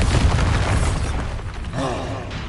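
Booming Bombarda spell blasts from a Hogwarts video game, a dense, loud explosive roar filling the whole stretch, with a brief spoken voice near the end.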